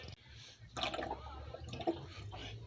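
Water drains and trickles into the holding tank beneath a motorhome parked on a slope, a soft, quiet running and gurgling with a few faint drips over about three seconds.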